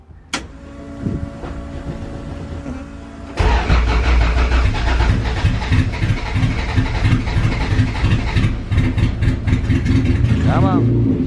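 A car needing a tune is started without a jumper pack: a brief crank, then the engine catches at about three seconds and runs loud and rough close by, revving unevenly, with a voice speaking over it.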